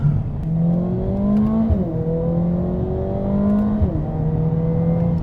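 Mercedes-AMG CLA 45S turbo engine accelerating hard with paddle-shifted gears, a loud close growl whose pitch rises steadily and then drops briefly at two upshifts before climbing again.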